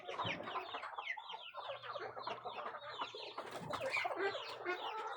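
A brood of young black Muscovy ducklings, about a week old, keeps up a dense, nonstop chorus of high, overlapping peeps close by, with a faint low hum underneath.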